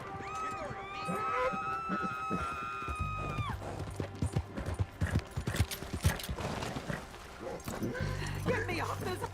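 Horse hooves clip-clop in Red Dead Redemption 2, a game-world sound heard under a layer of game music and occasional voices, with the footfalls coming in uneven bursts.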